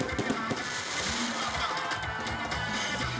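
Fireworks crackle and pop continuously in a dense, noisy burst at a stadium show in Toumodi, Ivory Coast, with a crowd's murmur and faint voices underneath.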